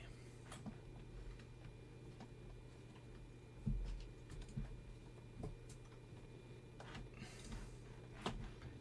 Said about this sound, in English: your wappy tail is hitting the keyboard